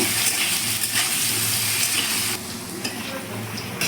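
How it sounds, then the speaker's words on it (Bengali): Potato pieces seasoned with turmeric and salt sizzling steadily in hot oil in a home kitchen, a close, continuous hiss broken by light stirring scrapes. "দিয়ে আলুটা আমি ভেজে নেব"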